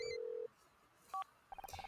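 A phone number is dialed in the video game Murder by Numbers: a long steady tone, then one brief two-tone beep, then a quick run of six short, evenly spaced keypad beeps, clear and close with no talking.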